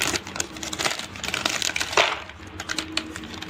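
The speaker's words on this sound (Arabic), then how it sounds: "تاني كيس، هنفتح تالت كيس." Plastic bag of heart-shaped biscuits torn open and crinkled by hand, a busy run of close crackles and rustles with one sharper snap partway through.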